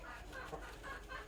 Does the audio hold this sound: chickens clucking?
yes